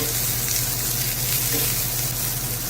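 Onions softening in a pan while beef leg balbacua is prepared, giving a steady, even sizzle close by with a low hum beneath, continuous for a few seconds and without talk.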